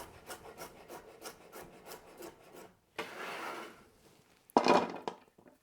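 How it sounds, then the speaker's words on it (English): Knife slicing vegetables on a cutting board, a run of quick rhythmic cuts followed by a longer scraping stroke and a sharp clatter, close and moderately loud. "the rest I'll just cut into slices for my pasta and my stir fry"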